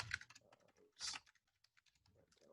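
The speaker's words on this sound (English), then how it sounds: "Basically, you can just keep typing." Quiet typing on a computer keyboard, a sparse, uneven run of soft key clicks with one brief louder clatter, close and alone without talk.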